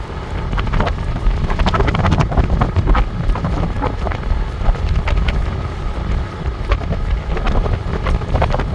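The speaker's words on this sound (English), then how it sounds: "we're gonna try to max speed, throttle only, so I'm not pedaling" A Fucare Scorpio full-suspension e-bike ridden at top speed on throttle alone in mode 5, about 20 mph, with loud, steady wind rushing and buffeting the microphone and no voices.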